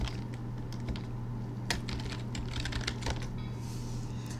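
Someone types a command on a computer keyboard while setting up an RFID RC522 reader on a Raspberry Pi, producing scattered, close key clicks over a steady low electrical hum.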